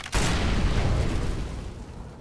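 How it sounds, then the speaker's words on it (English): An incendiary grenade in Counter-Strike: Global Offensive bursts open with a sudden loud whoosh, then settles into a dense, roaring crackle of fire that holds steady and fades slightly, with no voices. "Throwing fire."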